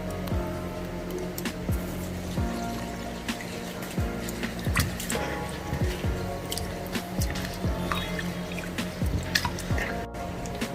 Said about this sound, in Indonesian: cuci beras ketan sampai bersih